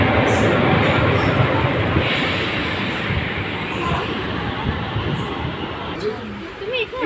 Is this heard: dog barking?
no